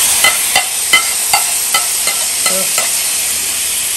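Onions sautéing in a pan for a mushroom masala fry, a bright constant sizzle cut by regular spatula scrapes and taps about every third of a second, close and loud, with no voices.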